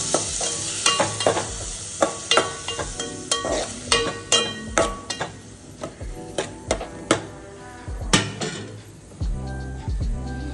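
Green chillies are stirred in a pan over sizzling oil. A spatula clacks and scrapes in an irregular rhythm of sharp hits, close and clear above a steady hiss of frying.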